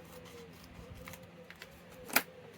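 A pair of scissors snips through paper or card at a craft table, a soft rustle and handling before one sharp, crisp cut near the end, close and alone.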